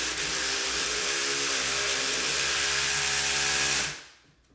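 A power drill driving a bolt whines steadily at close range for several seconds, then cuts off and winds down to quiet.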